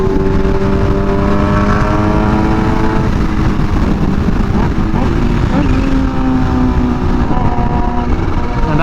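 A Kawasaki Ninja H2 motorcycle ridden in third gear over a bumpy street, its engine droning loud and steady with shifting tones as the throttle is eased, close to the rider.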